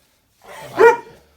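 A sheriff's department police dog gives a single short, close bark that rises from a brief low growl, with silence on either side.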